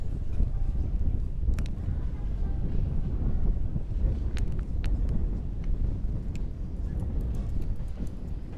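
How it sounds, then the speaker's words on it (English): Wind buffeting the microphone on a stroll through Bayonne's town centre, a constant low rumbling roar with faint clicks and street sounds beneath. "It's actually windy"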